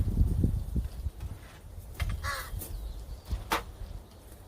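Crow caws at a crow training session, a few short harsh calls near the middle and end, over low rumbling handling noise and faint shuffling.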